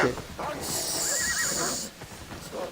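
A horse whinnies loudly with a high, wavering neigh over a background of speech and game sounds in Assassin's Creed Odyssey.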